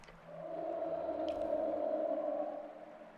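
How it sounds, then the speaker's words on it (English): In the video game Esoteric Ebb, a beast's long, low, moaning roar swells and holds over a rushing-water rumble, then fades away into the water noise. "You hear his roar fade into the rushing water below."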